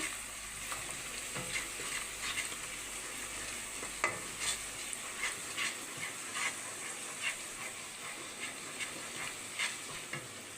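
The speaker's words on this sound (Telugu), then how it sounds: "సాల్ట్ కూడా వేసుకొని ఒకసారి మిక్స్ చేసుకుందామండి." A spoon stirs salted mushrooms frying in a pan, with soft sizzling and repeated scraping strokes, close but fairly quiet, no talk.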